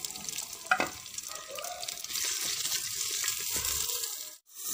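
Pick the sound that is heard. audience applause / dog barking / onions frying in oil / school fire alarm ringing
onions frying in oil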